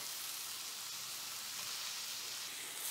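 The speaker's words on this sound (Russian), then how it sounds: "вот мясо начинает у меня поджариваться" Beef tenderloin fries in a pan, giving off a steady, even sizzle that hisses quietly and continuously for three seconds with no talk.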